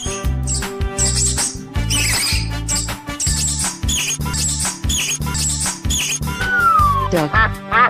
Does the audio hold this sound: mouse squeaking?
yes